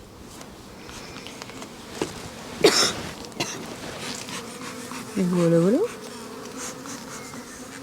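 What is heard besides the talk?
honeybees buzzing around hive frames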